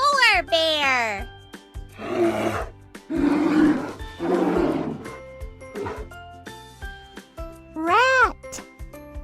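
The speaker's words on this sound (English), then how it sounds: "Polar bear." A polar bear growls in a series of rough, breathy roars, several deep bursts one after another between higher tonal calls, loud and close.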